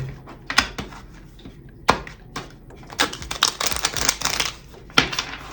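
Tarot cards being shuffled, with quick crisp riffling bursts and sharp snaps, close and fairly loud, no talking.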